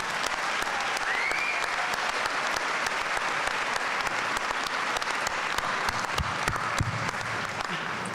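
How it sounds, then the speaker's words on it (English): A commencement ceremony audience applauds steadily and loudly, a dense sustained clapping from a large crowd throughout. "I just want to give another special round of applause"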